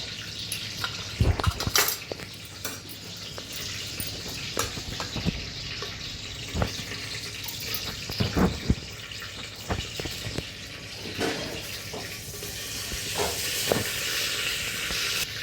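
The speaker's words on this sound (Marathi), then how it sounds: "मोहरी आपली तडतडलेली आहे" Mustard seeds crackle in hot oil as a tempering for Maharashtrian misal, a steady sizzle broken by sharp irregular pops, close and fairly loud with no voices.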